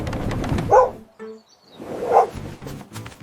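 Two loud, close barks from a cartoon firefighter pup, spaced over a second apart and set against soft music.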